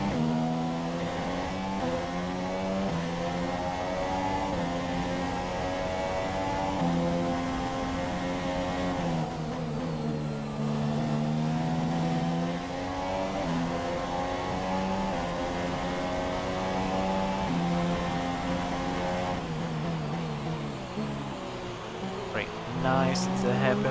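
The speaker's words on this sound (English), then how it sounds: "one thing I do love though is the sound of this car" Formula 1 car engine in the F1 2017 racing game at the Canada circuit, a steady high-pitched harmonic whine that rises and falls with gear changes, running continuously at close range throughout.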